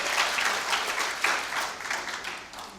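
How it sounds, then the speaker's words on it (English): Audience applause for West Pokot county at a Kenyan county budget transparency event, a dense steady clapping filling the whole stretch at moderate loudness with no talk over it. "which I think we have to clap for West Pokot."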